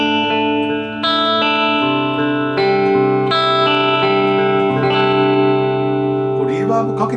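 A 1997 Fujigen-made Orville LPS-80F electric guitar on its front pickup with a clean tone and no effects, sustained ringing chords and single notes played in succession, bright and close.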